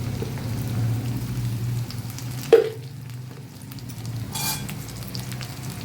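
Okra frying in a pan over a high gas flame with salt and turmeric, a steady close sizzle with stirring, a sharp clank midway followed by a quieter hiss, no talking.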